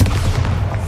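A Bombarda spell explosion in Hogwarts Legacy makes a short, loud, booming blast that sustains dense low rumble for about a second, with no voices.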